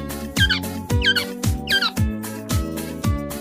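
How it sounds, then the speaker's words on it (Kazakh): Quail calling in a short repeated pattern of bright chirping notes, several calls in quick succession over a steady tonal backdrop with no talk. "Бөдене."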